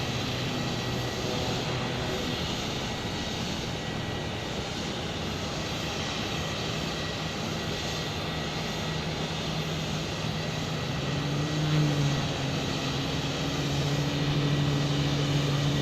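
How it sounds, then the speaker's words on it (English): Steady broadband roar of aircraft engines at an airport with a Delta airliner waiting to take off, a continuous distant rumble and whine holding at an even level for the whole stretch, with no talk. "So Delta's waiting to take off."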